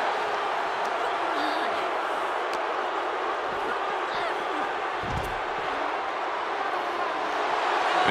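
Steady, dense crowd noise fills the arena during a WWE 2K24 casket match between Scarlett and Shotzi, a continuous cheering roar with a few brief thumps, heard without speech.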